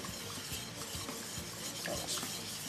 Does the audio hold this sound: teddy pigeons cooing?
no